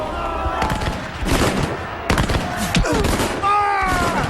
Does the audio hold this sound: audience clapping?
no